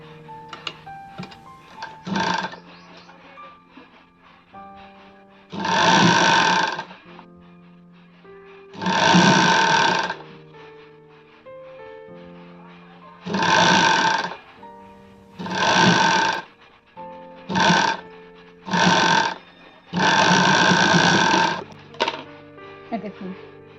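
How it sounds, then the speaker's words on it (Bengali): A sewing machine stitches the folded hem of a readymade sleeveless kurti. It runs in about eight loud, close whirring bursts of varying length, separated by short pauses. "দেখেছেন আমি কিন্তু এটা মুড়ে মুড়ে সেলাই করে নিলাম"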